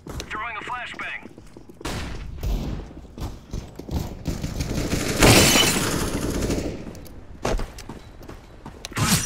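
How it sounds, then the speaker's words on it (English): A flashbang grenade in CS GO goes off amid ongoing gunfire, a bright loud burst mid-clip surrounded by clattering shots and game noise, with voices talking over it. "Throwing a flashbang."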